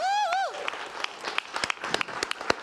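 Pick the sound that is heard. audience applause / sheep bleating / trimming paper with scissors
audience applause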